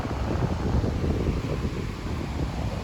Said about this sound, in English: splash. Wind.